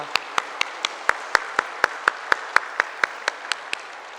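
A church congregation applauds during a Sunday service, giving a steady run of evenly spaced claps that carry at moderate loudness against a faint room hiss, with no talking over them.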